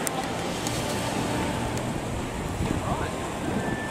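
Waves and wind roll steadily at a small beach in Gladstone, Australia: a continuous broadband wash of surf mixed with blustery wind buffeting the microphone, with no distinct breaks.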